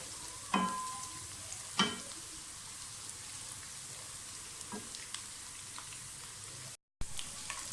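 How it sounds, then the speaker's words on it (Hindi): Steady background sizzle of onions frying golden brown in a pan, with a couple of sharp stirring clatters and a brief dropout near the end. "गोल्डन ब्राउन कर लें प्याज को।"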